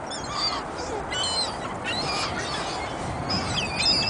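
Seagulls call repeatedly in squawking bursts while being fed bird food by a lake, with a busy background of flapping and water noise.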